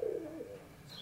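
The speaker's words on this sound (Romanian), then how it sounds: "niște porumbei pe casă" Pigeons coo on the roof of a house, a single soft, low coo heard faintly and up close, with no talk.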